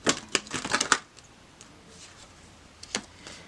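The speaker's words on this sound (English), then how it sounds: "One more shuffle." A deck of tarot or oracle cards riffled and shuffled during a reading, a quick burst of crisp flicking at the start, then quiet, then one brief flutter near the end.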